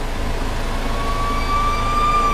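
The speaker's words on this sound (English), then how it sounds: "I wonder if the siren still works" An old truck's siren, worked by a floor pedal, winds up as a steady rising wail over a low engine rumble, growing slightly louder across the short burst.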